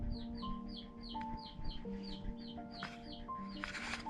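Small chicks cheep in a rapid, repeated series at moderate distance, set against a steady low hum and faint background tones.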